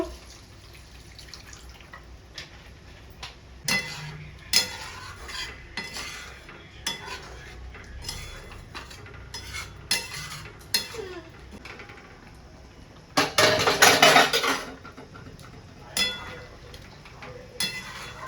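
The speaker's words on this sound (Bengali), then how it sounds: "চিকেনটা খুলে একটু নেড়ে নিলাম" Bengali-style chicken kosha cooked down in its released oil in a pan, stirred with a utensil that scrapes and clinks against the metal over a faint simmer, with a louder burst of scraping and sizzle near the end.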